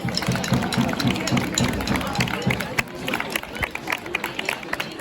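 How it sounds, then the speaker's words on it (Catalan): Applause for third- and fourth-year pupils at a school Sant Jordi contest: a dense, steady wash of clapping from a crowd, with crowd murmur mixed in throughout. "Un fort aplaudiment per a tot l'alumnat de tercer i quart que ha participat en aquest concurs."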